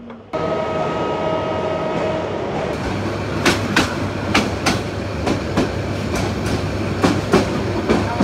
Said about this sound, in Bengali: এই তো ট্রেন কিন্তু অলরেডি একদম 6টা 17-তে কিন্তু ছেড়ে দিল